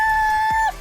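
A single short, loud, clear call from a hen in a breeding pen, steady and near, then cut off abruptly.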